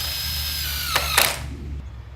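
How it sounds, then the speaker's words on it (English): A power drill drives a screw at an angle into the flange of a pool form, a loud close whine that ends with a sharp clack and brief rattle. "You'll see I'm putting the screw in at an angle here to catch the bottom flange"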